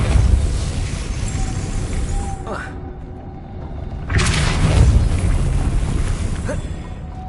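A Depulso spell is cast in Hogwarts Legacy, and it lands as a pair of forceful whooshing impacts with a deep thump, set over steady ambient game noise.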